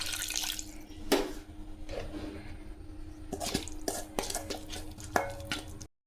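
A little water is poured into a bowl of prawn fry marinade with ginger-garlic paste and salt, giving close splashes, drips and clinks of a bowl and spoon in scattered bursts, ending abruptly.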